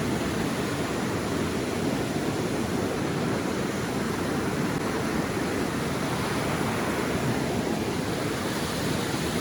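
River water rushing steadily nearby at night, a constant even roar of flowing water with no voices.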